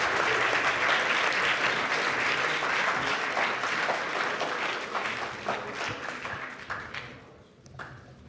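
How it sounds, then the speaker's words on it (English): Audience applause at a hackathon closing ceremony, a dense sustained wash of many hands clapping that thins out and fades over the last couple of seconds, with a few scattered claps lingering at the end. "Can we get another round of applause for these guys?"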